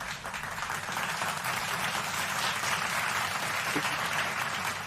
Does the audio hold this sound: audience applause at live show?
yes